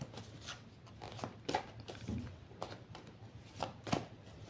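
Oracle cards being shuffled by hand, a soft papery riffle of quick irregular flicks and taps, faint and close, with no one speaking over it.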